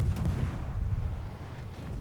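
Naval artillery in World of Warships rumbles as a continuous heavy, low boom that rolls on for two seconds, loud and dense throughout.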